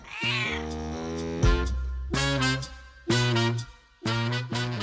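A stray cat meows in four drawn-out, clear calls with short pauses between them. It sounds close and loud, with no other sounds around it.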